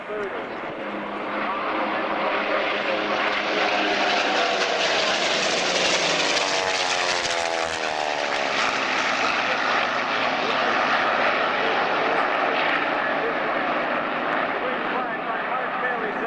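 Racing aircraft engines roar at an airshow air race, a loud sustained drone that swells with a sweeping flyby pass while an announcer talks over it.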